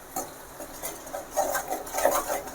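Spice powder being stirred into curry leaf thokku in a pan, giving soft scraping and clinking strokes in a quick, uneven rhythm that grows busier toward the end, close up and fairly quiet.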